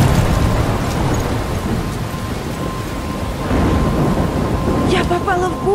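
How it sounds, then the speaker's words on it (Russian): Thunderstorm in the video game Life is Strange: heavy rain hisses steadily while deep thunder rumbles roll through, with a louder swell midway, under a faint tonal hum and brief sounds near the end. "Я попала в бурю?"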